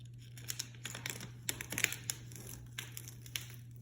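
A Chalk Couture rooster stencil being peeled slowly off a surface, giving soft, close crinkling and crackling bursts with small ticks, with a steady low hum underneath.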